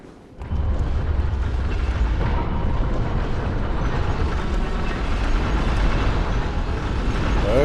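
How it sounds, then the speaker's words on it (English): A church cannon fires in the video game Bloodborne, a heavy booming blast followed by a sustained loud, rumbling roar that fills the whole clip with dense low-end noise and no talking. "A church cannon."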